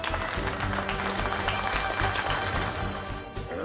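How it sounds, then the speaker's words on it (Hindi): Applause from a gathered family crowd greeting a son-in-law, sustained clapping with some voices and music mixed in, fading slightly near the end. "एक बार तालियां हो जाए भाई"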